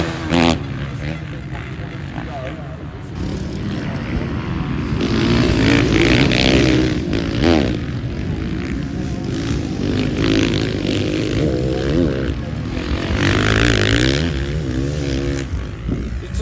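Several motocross bikes revving hard during start practice at the 2024 Motocross of Nations, engines rising and falling in loud, sustained surges that stay close throughout with no talking.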